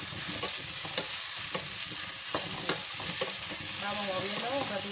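Onion, carrot and squash frying in a pan give a steady, close sizzle, broken by repeated scraping strokes as they are stirred.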